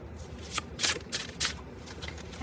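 Tarot cards being shuffled by hand, a few quick riffling bursts at close range, each a short crisp flutter, with quiet pauses between and no voices.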